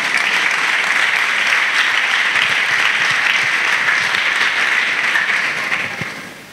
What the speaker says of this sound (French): Ah, vas-y, applaudis.